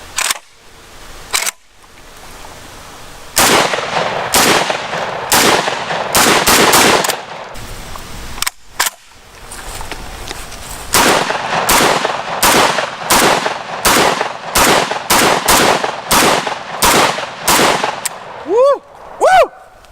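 Pistol gunshots at an outdoor range, a long series of loud, sharp cracks fired alone and in quick bursts, with brief pauses between strings of shots and a few faint voices near the end.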